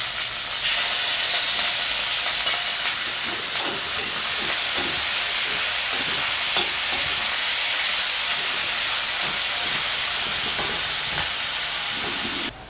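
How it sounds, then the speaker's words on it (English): Beef pieces browning in a single layer in hot oil in a pan make a loud, steady close-up sizzle and hiss that runs throughout and cuts off abruptly at the end. "Heat some oil in a pan. Arrange the beef single layer."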